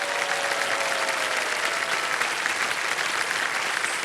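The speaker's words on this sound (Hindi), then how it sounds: "तालियां बजती रहे हमारे कंटेस्टेंट्स के लिए" Steady, dense studio-audience applause for contestants on a TV quiz show, loud and continuous without a break, with a faint tonal hum beneath the clapping.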